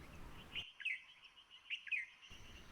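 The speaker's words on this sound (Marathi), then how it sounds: "हरियाल किंवा हरोळी." A yellow-footed green pigeon, Maharashtra's state bird, perched on a leafless tree in the jungle, gives two soft whistled phrases about a second apart, fairly faint, alone with no voices.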